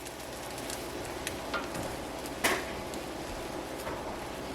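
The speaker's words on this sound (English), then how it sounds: "Let's just put one egg down without doing anything to the pan." A single egg sizzles and fries in a dry, unprepared cast iron pan, a steady close crackling hiss with a few brief louder pops and spits over it.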